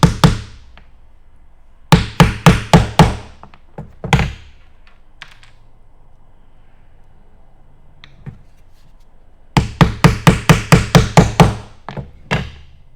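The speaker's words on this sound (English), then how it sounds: "I'm pounding these things together" Sharp knocks from an improvised hammer pounding 3D printer parts together while building a SeeMeCNC Rostock MAX v4: two bursts of rapid, evenly spaced hard thuds, close and loud, with a few scattered taps and quiet gaps between.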